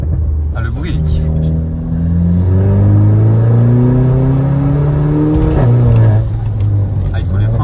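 A car engine revs hard nearby, its pitch climbing in several rising pulls between gear changes, loud and throaty, with someone talking over it.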